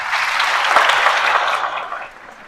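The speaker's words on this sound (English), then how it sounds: "Can we give him a round of applause?" An audience claps for a Gambian Nollywood actor taking the podium, a loud dense round of applause that holds steady, then thins and fades near the end.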